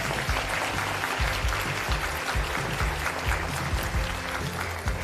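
Audience applause at a live fashion show and auction, a sustained wash of clapping hands filling the room at steady loudness, with a faint murmur of voices beneath it.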